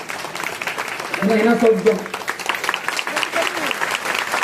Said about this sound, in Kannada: ನಾಳೆ ದಿವಸ ಕಟ್ಕೋತಿದ್ರೆ ಚಪ್ಪಾಳೆ ಬರ್ಸ್ಬೇಕು.